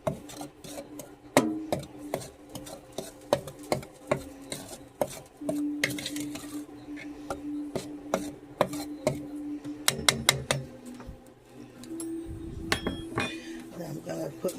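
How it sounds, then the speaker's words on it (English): A utensil rasps and scrapes through flour seasoned with black pepper in a bowl, with repeated clinks against the dish and a voice speaking over the stirring. "Stir that all up"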